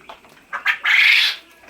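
Quail on a farm call out nearby: a few short chirps, then a louder raspy call lasting about half a second, then quiet.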